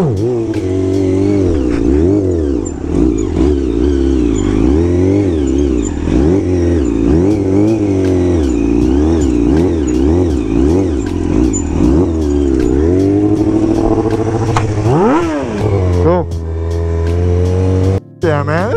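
Loud engines rev and roar continuously at a street gathering where riders pull wheelies, with pitch climbing and falling in repeated throttle blips and passes, under crowd noise.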